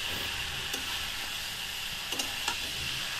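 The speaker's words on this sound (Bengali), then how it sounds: "এবারે ভালো করে নাড়তে হবে, কষাতে হবে এবার ভালো করে।" Jackfruit curry with spices being stirred and sautéed in a pan: a steady close sizzling hiss throughout, with a few brief scraping knocks of the spoon against the pan and no talking.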